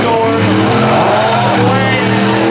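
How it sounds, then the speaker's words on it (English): Derby cars drifting around a dirt race track at a derby qualifier event, loud continuous engine roar and tire noise, with an announcer talking over it. "Iron Maiden is still drifting around Thor."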